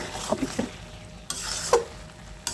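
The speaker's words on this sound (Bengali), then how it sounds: "এখন একটু নেড়ে ছেড়ে দিচ্ছি" A spatula scrapes and stirs pangas fish roe in a pan over a steady sizzle of frying, with a few soft clinks of metal against the pan.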